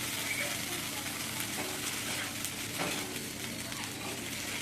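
Boti, goat tripe pepper fry, cooking in a pan with oil, onion and tomato gravy drying down, a steady close crackling sizzle that runs unbroken throughout, with a few faint stirring scrapes.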